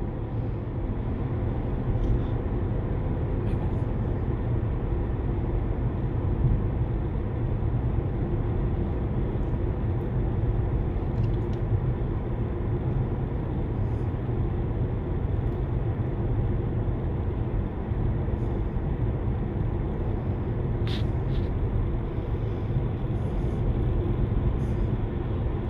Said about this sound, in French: Là j'accélère un tout petit peu plus fort pour la relance.